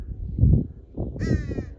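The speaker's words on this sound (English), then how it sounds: "A lot of crows." Several crows caw in a short burst of harsh, harmonic calls outdoors near a parking area on the California coast, rising over a low rumble of wind and ambient noise.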